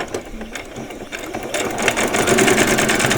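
A home sewing machine runs a straight seam with a back stitch while making vet scrubs, its fast motor whir and needle clatter steady and close for about three seconds, gaining speed and loudness partway through, with no voices.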